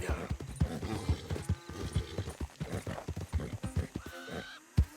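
Horse hooves clip-clop steadily in the Red Dead Redemption 2 video game, a brisk rhythmic gait of dull thuds with an occasional whinny near the end, accompanied by faint background sounds.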